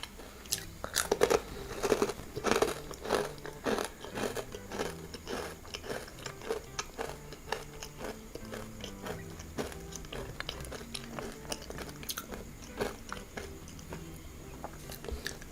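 Baked crispy vegetable fries are bitten and chewed up close, a rapid run of sharp dry crunches that is busiest early and thins into slower scattered crackles.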